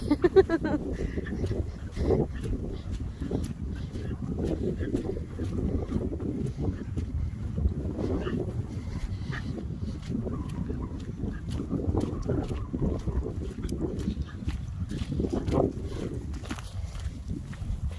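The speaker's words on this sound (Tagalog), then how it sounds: "Very windy." Strong wind buffets outdoors at a nature park beside water with melting snow, a steady low rumbling roar across the microphone, with faint rustles and light footsteps throughout.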